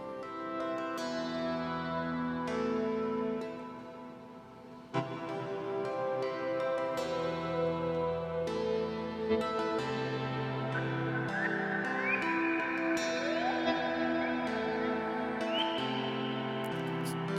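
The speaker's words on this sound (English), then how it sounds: "that bird sound you hear is multigrain, but it's just tiny tap coming from plonk" Bird-like chirps and warbling glides from a Multigrain granular module in a modular synth patch, fed by tiny taps from a Plonk module, rising over a sustained tonal bed with occasional plucked hits, continuous and fairly loud.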